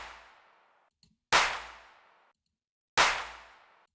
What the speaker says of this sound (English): And together, the claps sound like this.